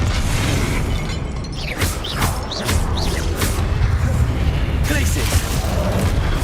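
A Confringo blast spell erupts in Hogwarts Legacy, loud booming bursts and crackling debris over a dense rumbling game soundtrack, with a voice speaking over it.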